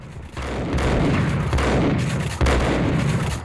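Gunfire in the Max Payne video game, a dense, loud barrage of rapid booming shots that runs continuously, briefly dips, then resumes with another heavy burst.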